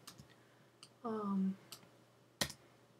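A computer keyboard key, the delete key, is pressed in a few light clicks, with one sharp, louder key strike near the end and a brief tonal hum in between.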